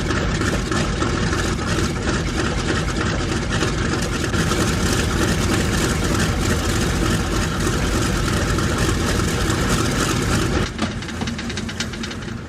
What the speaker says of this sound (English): Thad sits at the flight engineer's console to start all 4 engines